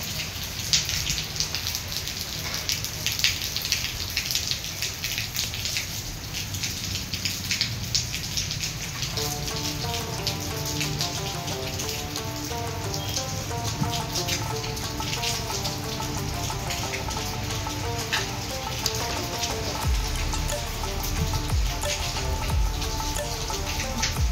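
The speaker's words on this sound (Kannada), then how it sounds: "ಮಳೆ ಸ್ಟಾರ್ಟ್ ಆಯ್ತು ನೋಡ್ರಿ ಈಗ. ಜಸ್ಟ್ ಜಿಟಿ ಇದೆ, ಹಂಗೇನು ಅಷ್ಟೇನು ಜೋರಿಲ್ಲ" Steady light rain patters continuously on surfaces nearby, a soft even hiss with scattered drips throughout.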